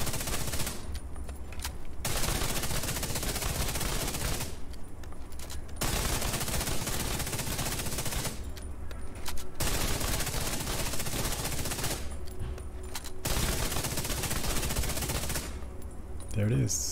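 Sustained gunfire bursts from a weapon in The Division 2 video game, firing in roughly four-second volleys separated by short reload pauses, loud and continuous across the stretch.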